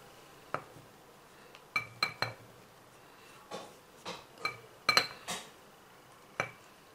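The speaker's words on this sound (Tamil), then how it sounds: "ஸோ கஸ்தூரி மஞ்சள் பொடியை நான் சேர்த்து மிக்ஸ் பண்ணுறேன்." Kasturi turmeric powder being stirred into a homemade herbal face powder in a bowl, heard as a scattered series of sharp spoon-against-dish clinks and taps, close and fairly crisp, with no talking.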